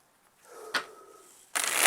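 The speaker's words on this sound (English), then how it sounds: "I am hearing to go ahead and shuffle the cards." Playing cards are riffled and shuffled nearby, a soft flutter, a sharp snap, then a louder burst of rapid riffling.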